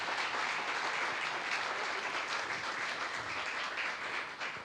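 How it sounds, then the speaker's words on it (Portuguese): A church congregation applauds steadily in a dense, even wash of clapping that holds at moderate level throughout and tapers slightly at the end, with no talk over it. "Pode aplaudir o Jesus da Bíblia."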